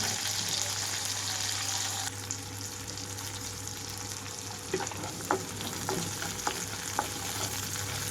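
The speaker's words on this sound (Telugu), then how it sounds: "రెండు మూడు నిమిషాల పాటు వేయించుకుంటున్నాను" Radish pieces fry in a pan for a radish chutney with a dense, even sizzle. From midway, sharp clicks of stirring against the pan come through up close, and no one talks.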